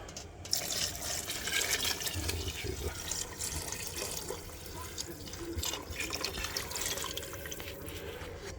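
Broth pours and splashes steadily into a big pot for chicken and sausage gumbo, a continuous gurgling stream with faint clinks, fairly quiet and close.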